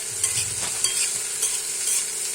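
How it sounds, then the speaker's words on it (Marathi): Okra with turmeric fries in a pan while a spoon stirs it, giving steady sizzling with repeated scraping strokes close by and no talking. "आता भेंडीला छान मिक्स करून घ्यायचं"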